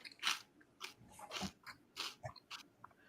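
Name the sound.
someone chewing food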